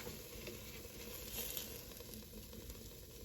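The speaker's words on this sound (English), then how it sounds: "I'm gonna go ahead and flip the chicken over." Chicken cooking in an air fryer sizzles steadily and softly, a constant close hiss with faint patter, no talk.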